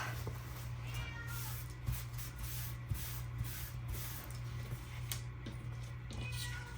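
A cat meows now and then over a steady low hum, the calls short and fairly close against constant background noise.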